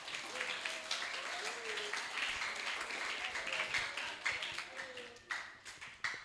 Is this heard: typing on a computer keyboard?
no